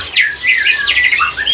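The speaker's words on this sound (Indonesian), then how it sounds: "Gacor emang burung ya? Gacor banget." A caged songbird at a busy bird market sings loudly and close by, a rapid, continuous run of bright warbling notes with no voices over it.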